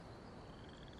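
Paper frogs croak in Genshin Impact, a soft rapid chorus of faint ribbed croaks pulsing over a low ambient wash.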